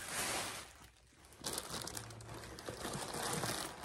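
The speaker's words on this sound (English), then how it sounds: "There's lots of tissue paper and air paper." Tissue paper and air packing paper crinkle and rustle as they are handled inside an opened box, a close, continuous crackling with a brief lull before resuming louder.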